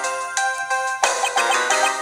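Cell phone ringtone from the Nintendo DS game Ace Attorney Investigations, a bright electronic jingle of repeating tonal chimes that grows busier and louder halfway through, heard alone without speech.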